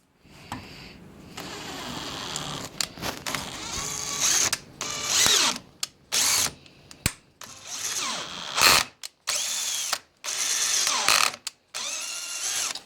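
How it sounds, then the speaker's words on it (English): An Irwin quarter-20 taper tap threads a drilled hole, heard as short bursts of a small power tool whirring in repeated starts and stops, close and moderately loud, separated by brief silences. "I'm going to start with the taper tap."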